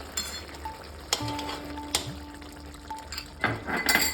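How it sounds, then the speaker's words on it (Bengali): Poppy seed paste is stirred into potatoes in a pan for aloo posto: quiet, sparse metallic clinks and scrapes of a spoon against the pan over a faint sizzle, close and without speech. "হালকা করে নেড়ে নেব"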